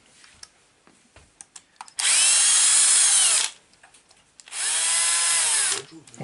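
Power screwdriver driving screws into a Team Magic B8ER RC car, two sustained whirring bursts of about a second and a half each, close and loud, separated by light clicks and handling noise.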